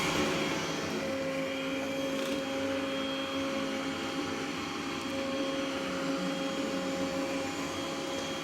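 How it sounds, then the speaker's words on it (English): A robot vacuum cleaner runs close by with a steady, continuous motor whine and whirring hum that holds at an even level throughout, with no talking. "Just showing the robot vac."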